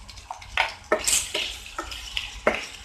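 Pieces of taro root (seppankizhangu) fry in oil while being stirred in a pan for a roast, with repeated scraping bursts over a soft sizzle, close by.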